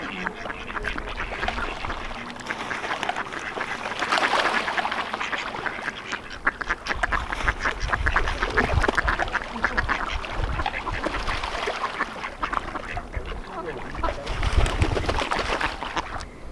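Ducks quack in a noisy feeding frenzy at Lake Arrowhead in the San Bernardino Mountains, repeated overlapping calls and splashing throughout, with a person speaking intermittently over them.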